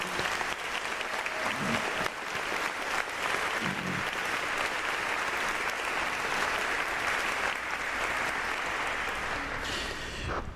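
An audience applauds awardees at a 20th anniversary awards celebration in Philadelphia: sustained, dense clapping from a large indoor crowd that fills the whole stretch before tapering off at the end.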